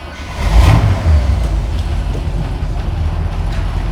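A 1966 Chevrolet Corvette roadster with side pipe exhaust fires up and settles into a loud, rough idle, a burst of low rumble at the start giving way to a steady churning drone close by.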